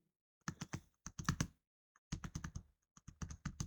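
Keys clatter on a computer keyboard as an Excel formula is typed, in quick bursts of close, crisp taps separated by short pauses, with no talking.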